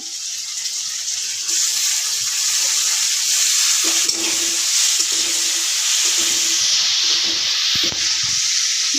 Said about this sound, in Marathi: कांदा लालसर भाजून घ्यायचा आहे त्यामध्ये टाकायचा आहे टोमॅटो